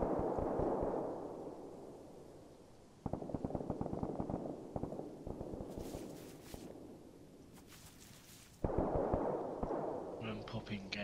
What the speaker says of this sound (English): You're too close to gunshots.